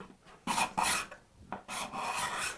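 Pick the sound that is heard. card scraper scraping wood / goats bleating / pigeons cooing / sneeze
card scraper scraping wood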